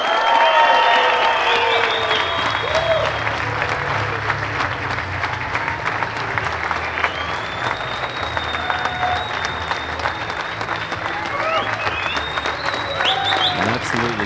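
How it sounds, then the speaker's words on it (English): A crowd at a disc golf European Championship player introduction ceremony applauds and cheers continuously, with an announcer talking over the sustained applause. "Huge applause for Kristin Tattar, to no surprise there."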